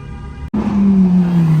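A Brabus 4x4 squared SUV drives past close by, its engine note rising to a loud steady drone after a brief cut, with street traffic noise before it.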